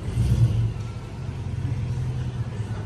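A Chevrolet Tahoe RST 4x4 runs nearby with a steady, loud low rumble, a slight rev swell at the start, then an even idle-like drone throughout.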